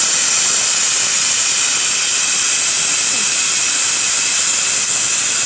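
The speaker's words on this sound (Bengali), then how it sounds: "এখনো হাওয়া বেরোচ্ছে।" Steady, loud broadband hiss of steam escaping from a pot of duck meat cooking, continuous and close for the whole stretch with no speech over it.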